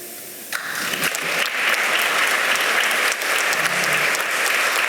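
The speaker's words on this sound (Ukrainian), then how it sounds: "Наші оплески." Hall audience applauding a veterans' billiards team honored for winning a championship in Odesa; clapping swells after a brief quieter start and stays full and steady throughout.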